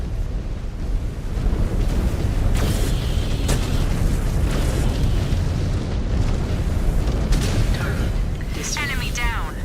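A target is destroyed in MechWarrior 5: Clans, and the deep, rumbling explosions roll on loud and continuous with scattered sharper bursts. A voice speaks intermittently under the din.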